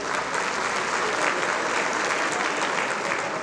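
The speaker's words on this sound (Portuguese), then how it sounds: "Uma salva de palmas para a Alice, gente." Steady applause from a crowd at a Brazilian national cultural gathering fills the whole stretch, dense and even clapping without a break.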